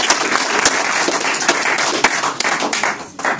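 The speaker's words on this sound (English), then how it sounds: "give her a clap" An audience claps steadily through the whole short stretch, dense and fairly loud, with no talking over it.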